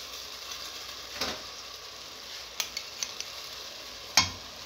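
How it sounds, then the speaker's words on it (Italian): A spoon stirs a pasta and zucchini mixture in a pot, making quiet scraping swishes and several small clicks against the pan under a faint steady sizzle. "Amalgamiamo ancora il tutto."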